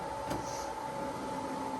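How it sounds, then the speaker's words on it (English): A Ricoh Ri1000 DTG printer runs a nozzle check and gives off a steady mechanical hum with a faint tonal whine, plus one brief clack near the start. "And now it'll run that nozzle check."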